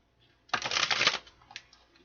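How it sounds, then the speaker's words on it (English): A deck of tarot or oracle cards is riffled in one quick, crisp burst lasting under a second, close and clear, followed by a few soft card taps. "We'll get one more shuffle here."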